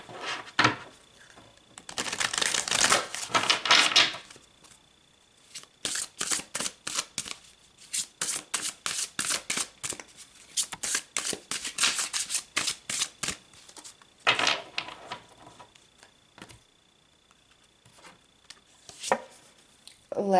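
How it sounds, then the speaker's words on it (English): Tarot or oracle cards are shuffled for a card reading in close, crisp bursts of rapid riffling flutters, pausing briefly between rounds and tapering off near the end. "let's pull some more cards"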